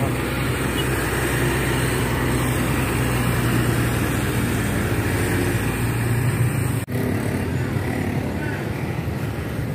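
Diesel engine of an NPM intercity bus rumbling steadily as it pulls away from a terminal bound for Padang, a continuous loud low drone with a brief dip near the end.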